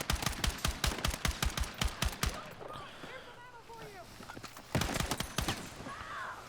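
Semi-automatic rifle fire in the video game Battlefield 6: rapid bursts of sharp, loud shots in quick succession, a pause filled with faint whistling battlefield effects, then another volley of closely spaced shots.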